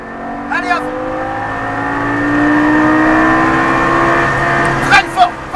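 A loud Lamborghini Gallardo LP560 engine revs up steadily at full throttle on the Circuit du Var racetrack, pitch climbing and holding, with someone talking over it in French.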